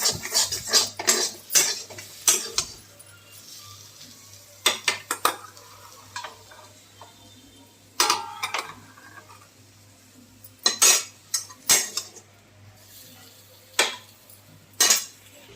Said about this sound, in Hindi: कढ़ाई को धो दिए क्योंकि साग का टेस्ट आ जाता है, इसीलिए कढ़ाई को धो दिए हैं।